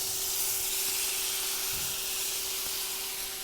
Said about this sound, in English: you can hear that that is just like the sizzle that I want you to have